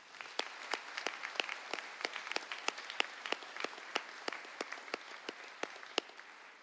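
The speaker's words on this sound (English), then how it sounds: "We're going to please give the choir a round of applause." Scattered applause from a small graduation ceremony audience after a choir performance: sparse, distinct handclaps in loose rhythm, fairly quiet and somewhat distant, with no talking.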